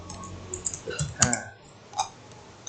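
Several light, irregular keystrokes on a computer keyboard while building a 3D model in SketchUp, sparse and close, with quiet gaps between presses.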